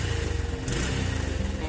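A motorcycle engine running on Shell Advance AX7 10W-40 semi-synthetic oil idles close by, a steady low rhythmic putter with faint ticking, heard alone.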